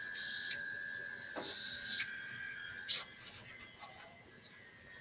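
Airbrush from a crafting kit spraying in short bursts, two close hissing blasts of about half a second each, followed by faint handling clicks.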